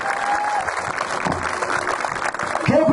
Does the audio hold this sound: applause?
yes